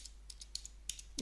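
Sparse, quiet keystrokes on a computer keyboard while entering a map label in WinOLS tuning software, a few separate clicks spread over a second with a steady low hum underneath and no talking.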